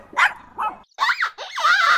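A dog barks and yips several times in quick succession, close and fairly loud, with short sharp calls rising into a longer whining bark at the end.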